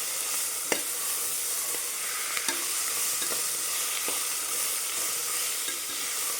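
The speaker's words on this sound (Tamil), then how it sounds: "இஞ்சி பூண்டு இது அதிலே போட்டுருங்க" Ginger garlic paste fries in a pan with a steady, even sizzle throughout, dotted with a few faint clicks of stirring, and no one talking.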